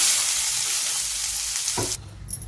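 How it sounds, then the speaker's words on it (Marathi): Steady, loud sizzling of onion frying in hot oil in a wok, continuous for about two seconds before abruptly dropping away. "कढईमध्ये आपण तेल तापत ठेवलेलं आहे आपण हा कांदा भाजून घेत आहोत"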